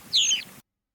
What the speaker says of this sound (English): Was that a Finch? I don't think that's an Indigo Bunting